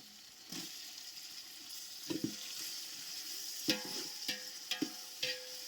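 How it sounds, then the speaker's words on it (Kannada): Food frying in a pan on a home stove, with tomatoes among the ingredients: a steady soft sizzle with occasional stirring clinks and scrapes of a utensil against the pan, close by and without talk. "ಅದೊಂಚೂರು ಫ್ರೈ ಆಗಲಿ"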